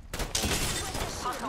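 Gunfire erupts in the Apex Legends video game during a ranked arena match, a dense, sustained fusillade of shots that stays loud and continuous throughout.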